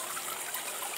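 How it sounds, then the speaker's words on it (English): A solar water fountain in a garden bird bath trickles steadily, a soft continuous splashing hiss with no voices over it. "That's a solar water fountain that works when the sun's on it."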